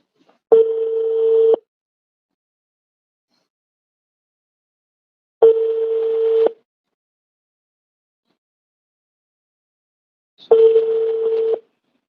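A telephone ringback tone repeats three times, each steady buzz lasting about a second with roughly four seconds of silence between, clear and alone.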